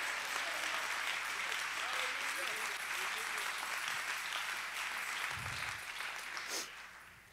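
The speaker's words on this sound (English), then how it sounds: "Somebody clap your hands and shout unto God" A church congregation claps their hands and shouts, a loud sustained roar of applause mixed with cheering voices that fades toward the end.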